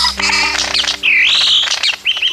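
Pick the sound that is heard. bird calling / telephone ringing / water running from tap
bird calling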